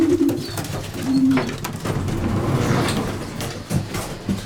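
Racing pigeons coo near at hand while feeding on the ground, soft throaty calls repeating over a background of rustling and a brief sliding, door-like sound.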